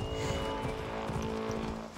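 Rapid, rhythmic hoofbeats of a galloping horse in the video game Assassin's Creed, close and steady, over a constant hum with no talking.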